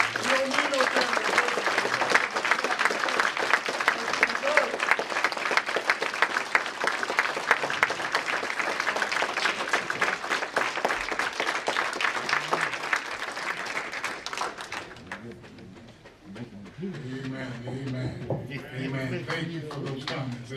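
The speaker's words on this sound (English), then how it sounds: "Let's give her a clapping hand" Sustained applause from an audience at a memorial service, dense and steady for about fifteen seconds before fading, followed by voices speaking.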